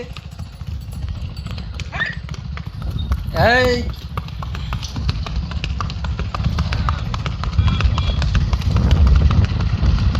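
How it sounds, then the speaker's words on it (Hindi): Horse hooves clip-clopping outdoors in a steady trotting rhythm, heard under ongoing talk, with a brief sweeping squeal partway through. "आप देख सकते हो बाहर घोड़ा चला रहे हैं, टक टक टक टक"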